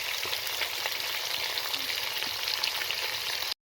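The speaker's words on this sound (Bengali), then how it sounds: "দেখো আমি মাছের মাথাটাকে আগে প্রথমে ভেজে নিচ্ছি।" Fish head frying in hot oil, the first step of a Bengali fish-head and spinach dish: a steady, close, dense sizzle and crackle that runs unbroken for the whole stretch, then cuts off abruptly.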